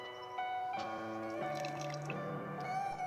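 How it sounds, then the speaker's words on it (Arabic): Water drips and trickles steadily from cooked zucchini, hollowed for stuffing, as each one is lifted and drained in a kitchen, a close, continuous patter with a faint running tone. "بدنا نقيمهم وحدة وحدة ونصفيهم من المي"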